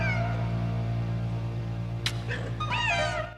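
A mutant cat from the horror film Uninvited yowls in a few drawn-out, wavering cries near the end, heard over a steady low hum of soundtrack.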